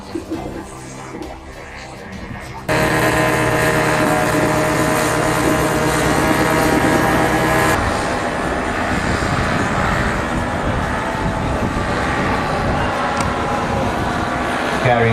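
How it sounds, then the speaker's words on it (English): A paramotor flying overhead at a school display makes a continuous, loud propeller-engine buzz that rises sharply after a few seconds and holds steady. Crowd noise and a voice over loudspeakers run beneath it. "Paramotor display."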